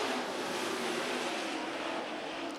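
Superstock race cars roar off together at the green flag of a speedway heat race, a dense, steady engine wash heard from a distance with no clear individual passes.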